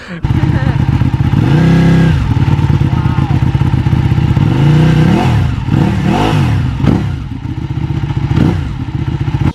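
A Ducati motorcycle fitted with throttle spacers accelerates while being ridden, its loud, close engine revving up and down through several rising and falling pulls over steady road roar, with a voice talking faintly underneath.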